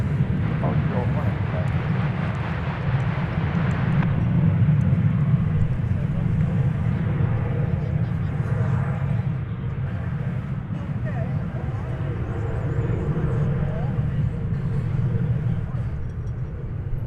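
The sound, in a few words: airplane landing at DFW Airport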